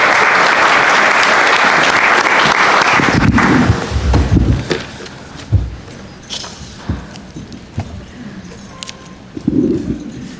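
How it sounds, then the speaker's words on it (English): Loud crowd applause thanks the Husky Marching Band and Cheer at a University of Washington football press conference. The clapping is dense at first, then thins after a few seconds into scattered claps, thumps and shuffling noises. "Thank you, Husky Marching Band and Cheer. Let's give them a clap."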